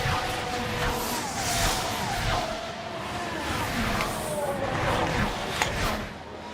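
Formula 1 cars overtaking in the racing management game F1 Manager 24 at Canada: engines whine and rush past in quick succession over a constant track roar, with a commentator talking throughout.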